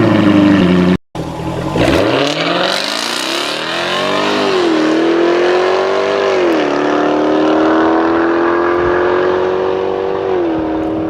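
A 2023 Jaguar F-Type R with a 5.0-liter supercharged V8 fires up after a brief pause, then revs loudly and settles into a deep, throbbing idle with repeated rising and falling blips, close and alone.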